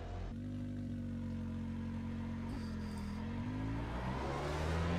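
Hyundai Veloster TCR touring car in iRacing at Road America, its engine droning steadily and loud throughout, pitch holding and then climbing under acceleration with a brief dip near the middle, with no talking.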